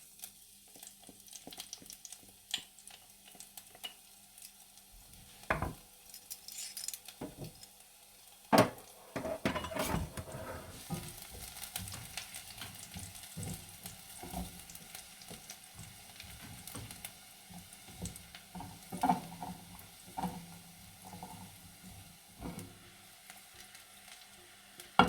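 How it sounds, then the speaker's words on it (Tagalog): Garlic sautéing in a pan, a quiet steady sizzle with scattered sharp clinks and scrapes of a utensil against the pan, plus occasional louder knocks. "ngayon, gigisahin po natin yung ating bawang"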